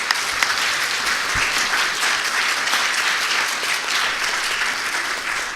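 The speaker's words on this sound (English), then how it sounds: "a big round of applause for these guys" An audience at a philanthropy forum panel claps in sustained, dense applause that holds steady and fairly loud from start to finish.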